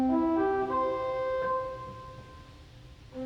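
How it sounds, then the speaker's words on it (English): Pipe organ open diapason stop sounding a few sustained, full, rounded notes that change pitch, then fade out, heard alone at moderate volume. "Now let's compare that with the open diapason."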